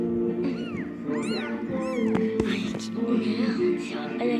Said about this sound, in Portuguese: Olha aqui, eles fazem miau, miau, miau.